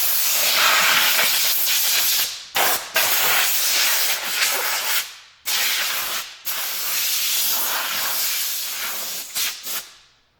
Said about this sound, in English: I will hit it again with compressed air just to make sure there's no more residue on the seat